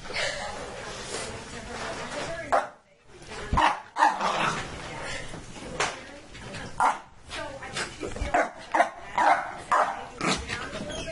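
A dog barks and yips in repeated short bursts, fairly close, with someone talking over and between the barks.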